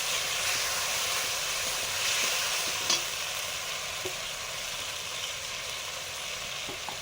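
A spice paste of cumin and ginger mixed in water sizzles steadily in a hot pan while being stir-fried, with a continuous hiss and faint stirring scrapes, close up and without talk.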